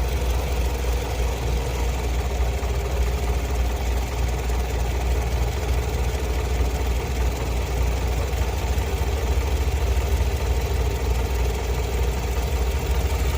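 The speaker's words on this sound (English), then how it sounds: "pay attention to the engine sound" Steady, droning Toyota Camry engine idling up close with a charging system malfunction, a constant low rumble with a faint ticking vibration, unchanging throughout and with no voices.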